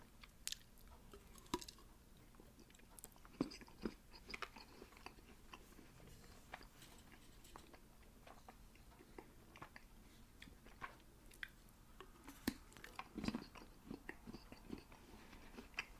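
Cheap Easter chocolate being chewed close up, soft repeated wet chewing and occasional crunchy bites, quiet and intimate with no talking.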